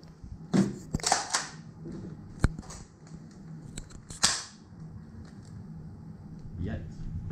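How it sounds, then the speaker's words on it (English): A modified Nerf Cycloneshock blaster firing full-length foam darts through a Chrono barrel, a few sharp close pops and mechanical clacks spaced apart, with someone talking around them. "firing full length FBJs through the Nerf Chrono Barrel"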